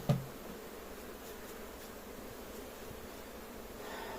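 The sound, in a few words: bees buzzing during transfer from nucleus box to hive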